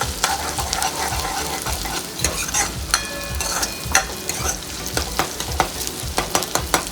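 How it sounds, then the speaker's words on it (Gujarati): Onion gravy with chili powder fries in a pan with a continuous close sizzle, broken by regular scraping and clinks as it is stirred. "આવી રીતે આ ગ્રેવી તળવા દેવાની."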